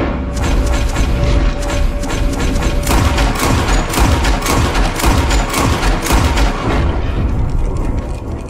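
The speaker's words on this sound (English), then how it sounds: "Gunshots are coming." Loud, rapid bursts of Red Dead Redemption 2 gunfire with booming impacts, overlapping shots crackling continuously for several seconds.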